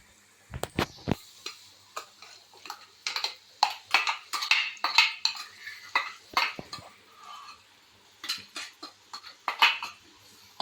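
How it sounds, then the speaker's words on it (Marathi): A paste of ground coconut, garlic and onion is sautéed with spices in a pan, heard as a run of sharp spoon scrapes and clinks with light sizzling, irregular and close, with no talking. "वाटण घातलं याच्यामध्ये आणि छान परतून घेऊया"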